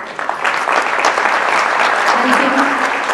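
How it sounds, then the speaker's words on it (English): Audience at a conference session applauding the panelists, a dense, steady wash of many hands clapping close by, sustained at even loudness for the whole stretch. "give a round of applause for these amazing distinguished panelists"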